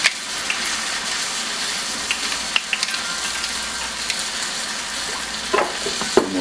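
Port wine and cracked black pepper sizzle hard in a hot pan with pork chops for a smothered sauce, a loud continuous hiss with occasional pops and stirring scrapes.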